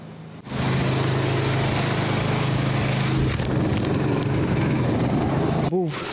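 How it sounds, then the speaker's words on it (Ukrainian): An engine-driven log splitter, a new model used by regional foresters and built with its own motor instead of an electric drive, runs with a loud, steady droning roar from start to finish after a brief quiet opening. "Остання розробка дровокол. Ним вже користуються лісівники області."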